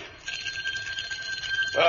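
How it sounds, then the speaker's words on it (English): An electric front doorbell rings in an old-time radio drama, a single sustained buzzing ring of about a second and a half, fairly close and clear, after which a voice starts. "But I think the front doorbell just rang."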